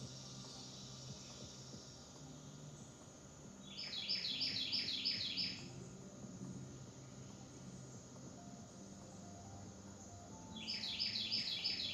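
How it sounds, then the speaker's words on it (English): Birdsong heard outdoors on a fine day: two bursts of quick, bright trilling chirps, moderately distant, over a steady low rumble of background noise with no talk. "You guys hear that bird?"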